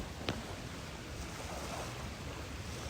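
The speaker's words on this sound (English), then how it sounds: "Why the waves just started drawing, though?" Ocean surf washing in steadily with wind buffeting the microphone, a broad continuous rush with one brief sharp burst near the start.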